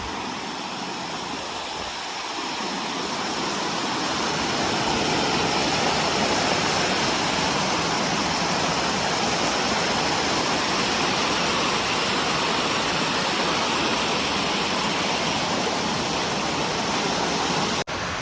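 Water from Vihar Lake at Powai pours over the overflow in a loud, continuous roar of rushing water that swells after the first couple of seconds and stays steady throughout, with no voices.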